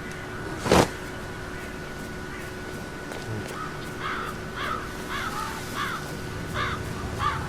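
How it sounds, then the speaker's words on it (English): Crows cawing in the video game Hitman 3, a series of harsh repeated caws picking up in the second half after a loud thump, over a steady ambient background hum. "It's the birds. They're making a racket, droppings everywhere."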